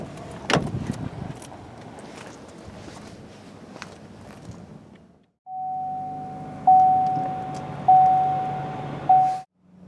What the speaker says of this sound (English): Press it again, it'll unlock all the rest of the doors.